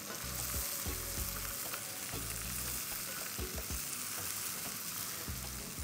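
Eggs fry with tomatoes in a pan, a steady close sizzle with repeated scraping stirs of a utensil in a loose rhythm.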